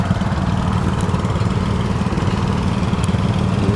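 A six-cylinder engine with two spark plugs per cylinder runs at a steam era show, giving a loud, steady, close idling drone with an even rapid pulse throughout.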